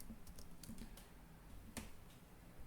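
Keys tapped on a computer keyboard while entering the git push command, a short run of soft, quiet clicks with one sharper stroke near the end and no talking.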